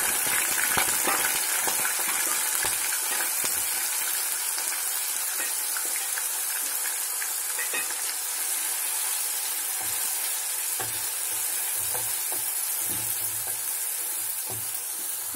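Curry leaves and onion paste frying in hot peanut oil for a raw mango fish curry, giving a continuous, close, bright sizzle with occasional stirring noises, and no one speaking.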